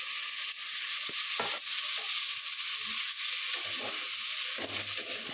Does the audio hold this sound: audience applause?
no